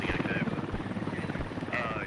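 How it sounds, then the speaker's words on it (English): A helicopter passes overhead in the game Squad, its rotor chop throbbing loud and low beneath a continuous engine roar, with a voice talking over it. "It's a helicopter actually flying right over"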